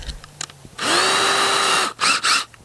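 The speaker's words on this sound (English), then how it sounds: "pilot hole, just an 1/8 inch drill bit" A power drill boring a 1/8 inch pilot hole while building a hoop cover for a raised bed: a loud, close motor whine lasting about a second, then two short bursts of drilling after a brief pause.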